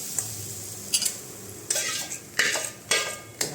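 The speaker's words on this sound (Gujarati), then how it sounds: "સરસ રીતના એને ફટાફટ હલાવવાનું, એમાં ગાંઠા પડી જાય એટલે આપણે ફટાફટ હલાવશું" Bhajiya batter is stirred quickly into hot oil seasoned with asafoetida and turmeric, a quiet sizzle under a series of sharp spoon scrapes and clinks against the pan, about six distinct strokes.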